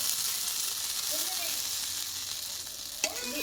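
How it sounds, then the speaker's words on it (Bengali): A stuffed roti frying in white oil in a pan makes a steady, close sizzle with a light crackle, broken by a brief clatter near the end. "এইবার দুই পিঠ ভালোভাবে ভেজে নেব আমি আবারও এক চামচ মতো সাদা তেল এইভাবে দিয়ে দেবো"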